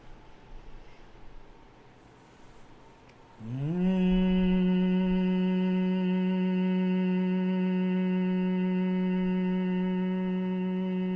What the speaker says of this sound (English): And then breathing out, making the humming sound.